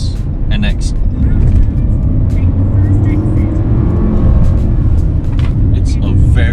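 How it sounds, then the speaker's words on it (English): A Lexus NX engine pulls under acceleration while driving, a strong, steady low rumble heard from inside the cabin, with someone talking over it throughout. "It's a very, very eager engine. I just love the way it delivers performance."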